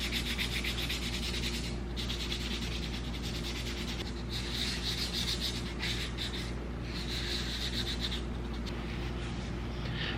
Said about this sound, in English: you kind of run the risk of sanding right through all the work you've done